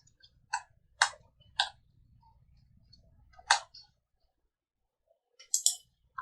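A computer mouse clicks sharply and close, with about five crisp isolated clicks at uneven intervals against near silence and a faint low hum.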